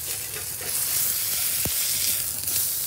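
A smash burger sizzles loudly on a griddle over a Weber Master Touch Premium charcoal grill, a constant close hiss with a quick scrape as the spatula flips it.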